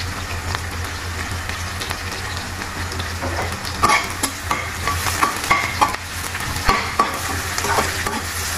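Garlic sizzles and stir-fries in a hot pan, with a steady crackling hiss and irregular scraping clicks from stirring, close up and continuous.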